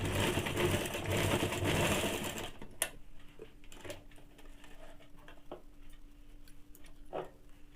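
A sewing machine stitches a Bombay-cut two-piece blouse, running in a close, steady whir for a few seconds before stopping, followed by scattered light clicks and taps.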